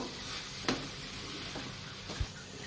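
Mixed coconut naru mixture with sugar is stirred in a pan, a faint, quiet sizzle broken by a couple of soft scrapes.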